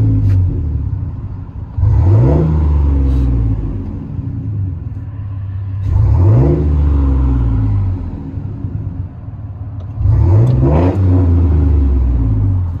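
A Chevy Silverado / GMC Sierra 1500 with a 4.3L V6, Flowmaster Outlaw exhaust and side pipe revs three times at a steady interval, each blip a loud, close, deep throaty rise and fall over a rumbling idle.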